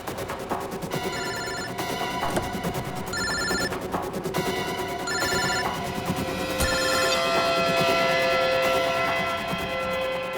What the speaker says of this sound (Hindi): सर फोन तो गाड़ी में बज रहा है।